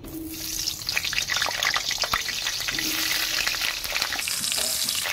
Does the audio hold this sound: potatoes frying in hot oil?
yes